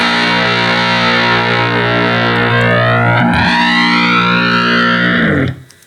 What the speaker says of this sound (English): And our clean fuzz sound.